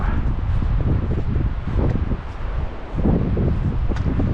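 Steady wind gusting across an outdoor hiking spot on the Elwha Road near the Glines Canyon Spillway Overlook, a continuous low rumbling buffet with swells and rustling, loud and close against the microphone with no talking.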